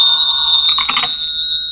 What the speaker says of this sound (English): Wouldn't want to lay a little bet why this phone's ringing at this time of night, would you?